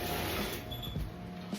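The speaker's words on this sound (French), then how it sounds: "je suis désolée si vous entendez le ventilo" An electric fan runs in a room, giving a steady, even whirring hum with a faint mechanical tone throughout and no talking.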